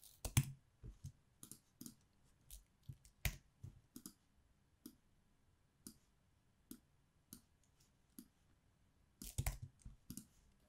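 Computer keyboard typing, with sparse, crisp key clicks at irregular intervals and a short quick flurry near the end, quiet and close with no talking.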